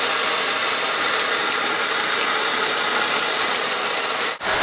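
Pressurized air hisses steadily and loudly out of leaking joints on a homemade intercooler pressure tester, a continuous rushing blast that dips briefly near the end.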